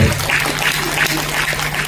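An audience at a religious discourse claps loudly in a dense, sustained burst of applause, a fairly close crowd sound that lasts the whole moment with no pause.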